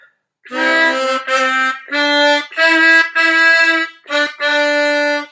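A harmonica plays a phrase of blown and drawn holes, six or seven sustained reedy notes in even steps with small gaps between them, close, loud and solo.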